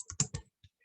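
Quick keystrokes on a computer keyboard while entering terminal commands, three rapid close clicks followed by a single lighter tap after a short pause.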